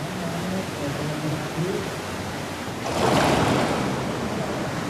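Whitewater crashes and surges on a canoe slalom course in Bratislava, a steady rushing roar that swells louder partway through as a boat pushes through the waves, with no voices.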